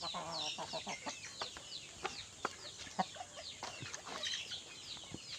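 Pet chickens cluck and chatter steadily while pecking at organic feed, with many overlapping calls and small pecking taps close by.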